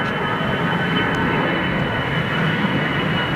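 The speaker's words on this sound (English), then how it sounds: "747 rolling." A Boeing 747 roars down the runway on its takeoff roll at Heathrow, a loud, steady jet-engine rumble with a broad rushing hiss and no voices.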